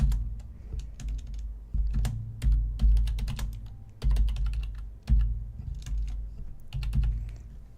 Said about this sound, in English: sorry for the clickety clicks.